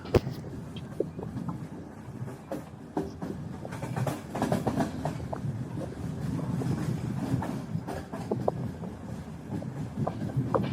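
The Cheran Express train runs on rails between Erode and Coimbatore, heard from on board as a steady rumbling roll with repeated clickety-clack wheel beats over the track joints throughout.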